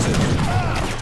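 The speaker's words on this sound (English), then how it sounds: "A lot of cannons." Massed cannons in the real-time strategy game Age of Empires 3 fire in a dense, continuous barrage of overlapping booms and cracks, loud and steady throughout the brief stretch with no voices.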